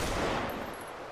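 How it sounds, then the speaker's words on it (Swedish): Gunfire in a GTA roleplay video game: a brief, dense burst of rapid shots rings out loudly, then fades away within about a second. "Skottlossning."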